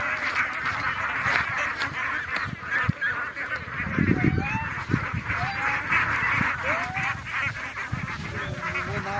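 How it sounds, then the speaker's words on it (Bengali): A flock of domestic ducks calls repeatedly with short, rising quacks and honks, some near and some farther off, over steady outdoor background noise and no talking. "আগে হাঁসগুলো একটু ঘুরিয়ে ঘুরিয়ে চাই"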